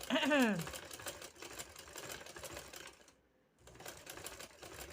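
A sewing machine stitching pearl lace onto a dupatta, a fast steady mechanical chatter close by that pauses briefly before resuming, with a voice speaking at the start.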